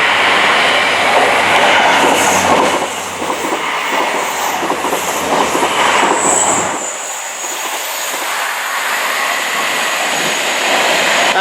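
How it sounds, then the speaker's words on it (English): A South Western Railway train passes Wimbledon footbridge, its loud, rumbling roar of wheels and carriages sweeping by close below before fading to a lighter hiss as it moves away. "That's an Exeter train,"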